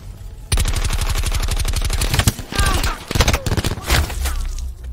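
Gunfire in the video game Black Ops 4: a loud, rapid machine-gun burst fires steadily for about two seconds, followed by scattered shorter volleys and impacts, close and dominant.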